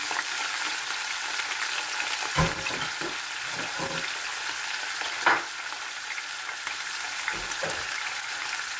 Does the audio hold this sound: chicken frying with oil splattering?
yes